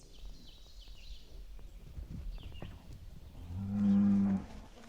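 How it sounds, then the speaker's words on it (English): Cattle wander through a rural hunting spot where turkeys had been, with one loud, drawn-out moo rising near the end over quiet outdoor ambience and faint bird chirps. "Some curious cows wander through and scare the turkeys away."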